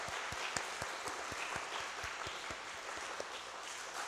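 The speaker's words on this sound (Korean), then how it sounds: "우리 박수로 좀" A church congregation applauds its youth members with steady, evenly paced group clapping, fairly distant and continuous throughout.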